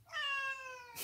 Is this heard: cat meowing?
yes